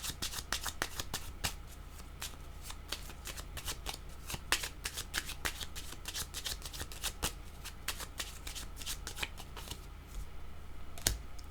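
Tarot cards being riffled and shuffled for a card reading, a long, steady run of rapid, close flicking snaps with no speech.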